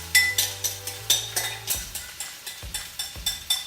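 Sauce hits a hot stir-fry pan, with a brief hiss followed by rhythmic scraping and clinking of a utensil stirring against the pan, regular strokes close by.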